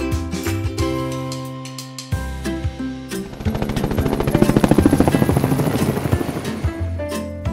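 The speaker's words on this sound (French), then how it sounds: "Hélicoptère." A helicopter's rotor thumps rapidly and steadily, building in loudness as it comes near, with a whining engine underneath.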